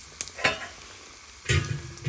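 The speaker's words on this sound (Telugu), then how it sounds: "మిరపకాయలు అన్నీ వేసుకుని తాలింపు వేసుకోవాలండి." Mustard seeds, cumin, chana dal, urad dal, asafoetida and dried red chillies sizzle in hot oil for a tempering, with short crackling bursts and stirring at close range.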